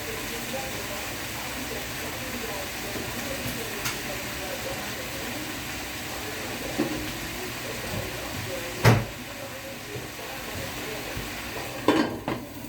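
Mixed vegetables for a Kerala vegetable stew sauté in a covered pan, a steady low sizzle and bubbling with occasional clinks of a lid or utensil against the pot.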